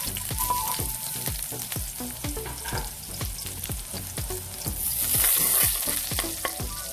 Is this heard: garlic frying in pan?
yes